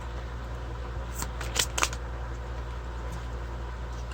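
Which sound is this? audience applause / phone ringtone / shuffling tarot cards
shuffling tarot cards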